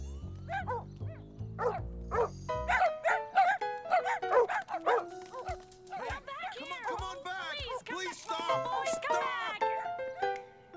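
An animated children's show's cartoon dog barks in a quick run of short, clear yaps near the start, then voices and light music carry on over occasional further dog sounds.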